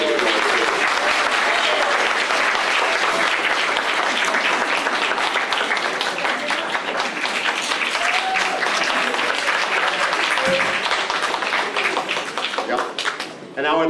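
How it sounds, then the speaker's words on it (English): At a tribute dinner for Rabbi Wolff at Beth Israel, a large crowd gives a family a dense, steady round of applause. It stays loud and unbroken for about fourteen seconds, with some voices mixed in underneath. "Can you give them a round of applause?"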